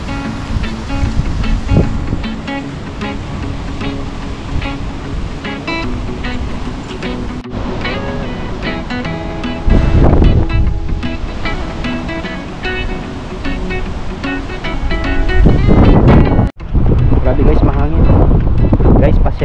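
Heavy wind buffeting a microphone outside a dormitory in Longtan, Taiwan, a loud roaring rumble with gusts that swell and drop, while a person talks intermittently underneath.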